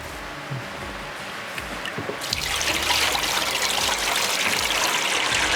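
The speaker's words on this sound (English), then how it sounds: "I'm just going to add some water." Water poured by hand into a water fountain add-on, a steady close trickle that swells into a louder, fuller splashing pour about halfway through and keeps running.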